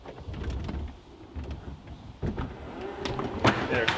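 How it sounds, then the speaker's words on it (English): A steady electric motor whir with mechanical clunks as Tesla Model X rear doors power open, building louder toward the end. "The rear doors are opening."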